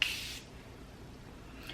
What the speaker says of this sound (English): The Morphe Continuous Setting Spray, hands down. The mist is beautiful.